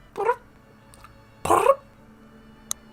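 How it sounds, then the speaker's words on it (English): A cat makes two short, trilling chirps about a second apart, close and clear in a quiet room, followed by a faint click. "the chirping sound cats make"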